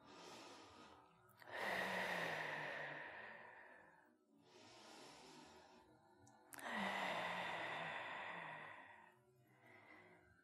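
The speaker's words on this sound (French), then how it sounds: "On va prendre quelques grandes respirations ici." Slow, deep breaths during a yoga session for breast cancer: two long airy inhales and sighing exhales, close and soft, with no talking.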